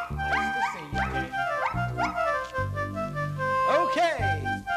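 A curious dog gives a series of short yips and barks with whimpering, tonal cries, several quick calls in a row, close and fairly loud and mixed with voice-like sounds.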